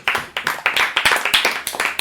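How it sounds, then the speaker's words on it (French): A small group of people clap their hands in a quick, uneven burst of applause, loud and close, with sharp overlapping claps running steadily for a couple of seconds. "On applaudit tout."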